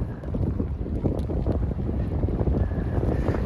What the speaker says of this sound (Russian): Какой сильный ветер,